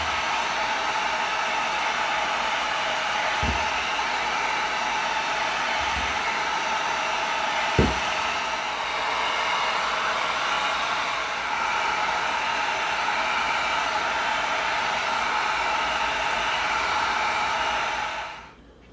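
A heat gun blows a steady, loud hiss of air across EVA foam to tighten it, running continuously for many seconds with a few faint knocks underneath before cutting off at the end.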